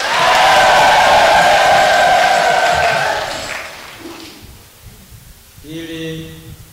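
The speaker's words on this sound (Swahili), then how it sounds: "Tumpigie Mungu makofi." Congregation clapping at a church service for a parish priest's installation, a dense, loud wash of applause that fades after about three seconds, followed by brief murmuring and a short voice near the end.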